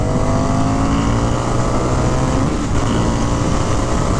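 A 2023 Indian FTR R Carbon motorcycle with a 1200 engine pulls hard on a test ride, its loud, sustained engine roar and wind rush filling the clip with a brief dip near the end.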